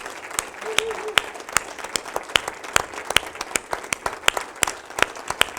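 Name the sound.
audience applause for the institution's president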